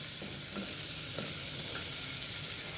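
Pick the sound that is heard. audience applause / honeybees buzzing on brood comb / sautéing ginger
sautéing ginger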